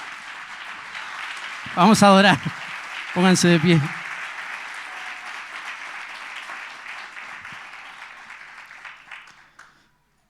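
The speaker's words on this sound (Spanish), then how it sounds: "¿Se anima a darle un aplauso al Señor por la palabra?" A church congregation applauds steadily for the sermon, broad clapping running under two short spoken phrases before fading out to silence near the end.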